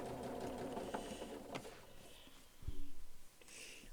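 A sewing machine back stitches fabric held by a leader scrap, its motor running a few seconds with a brief louder burst of rapid needle strokes near the end, quiet and close.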